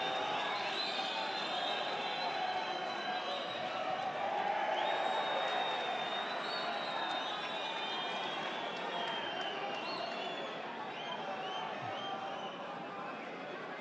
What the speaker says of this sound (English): The crowd getting excited there.